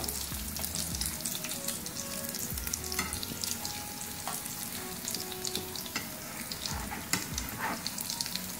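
Sabzi kebabs fry in oil in a pan with a continuous close sizzle and crackle, broken by occasional stirring and turning sounds, and no talking.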